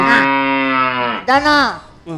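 A cow moos loudly and close by: one long, drawn-out low call, followed by a shorter second moo and the start of a third.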